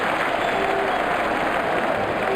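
Crowd noise in the cricket video game Sachin Saga Pro Cricket, a steady, dense wash of cheering and applause that holds at an even level throughout.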